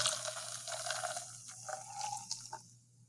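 Water pours into a cup holding a crushed tablet, a steady liquid rush that thins into trickles and a few faint drips and clinks near the end.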